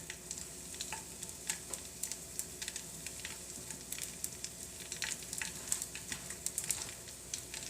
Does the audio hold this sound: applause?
no